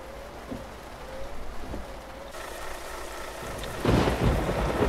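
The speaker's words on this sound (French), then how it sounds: "petite vue Voilà. extérieure avec l'orage." A thunderstorm in the truck-driving game Euro Truck Simulator 2 gives steady rain hissing on surfaces, with thunder growling and then a loud closer crack near the end.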